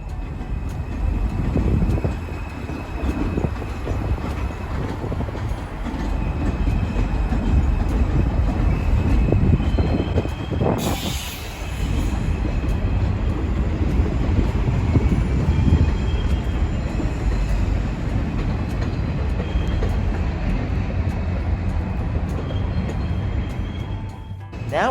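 An NYC M subway train rolls across the Williamsburg Bridge from Manhattan, a steady loud rumble of wheels on elevated track with a short high screech partway through, no voices.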